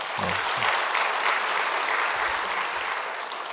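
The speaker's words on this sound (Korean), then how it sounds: "그래서 우리 박수를 한번 격려하겠습니다." A Korean church congregation claps in encouragement during a Sunday service, a brief, steady burst of many hands at moderate loudness, with a few low voice murmurs underneath.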